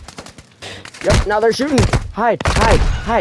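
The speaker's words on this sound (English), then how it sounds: "Yep, now they're shooting." Scattered gunshots in Call of Duty: Modern Warfare II crack in the background as a player urgently speaks over them, short sharp bursts mixed under the talking.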